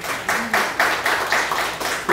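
An audience at a Buddhist monk's art exhibition opening in an Insadong gallery claps in a steady rhythm of about eight loud, close bursts in just over two seconds.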